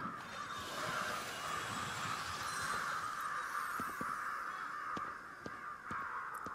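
Crows cawing in Ghostwire Tokyo, a steady chorus of harsh calls filling the scene over ambient game noise, with a few sharp clicks near the end.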